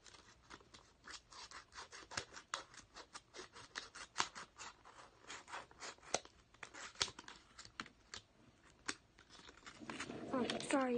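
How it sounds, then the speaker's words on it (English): Scissors snipping off excess material from a homemade phone case, a rapid series of close, quiet cutting clicks with crinkling and rubbing, ending in a brief louder rustle. "You grab your scissors, you cut off the excess"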